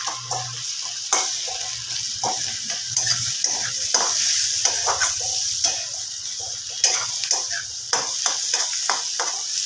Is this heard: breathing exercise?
no